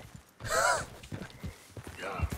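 A horse in Red Dead Redemption 2, caught in a lasso, gives a loud whinny followed by a few soft hoof clops and a fainter second whinny, close by.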